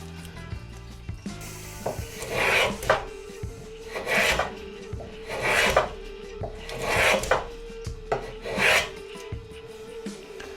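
A cheap hand plane is pushed along thin softwood in about six rhythmic rasping strokes, close and moderately loud, with short pauses between passes.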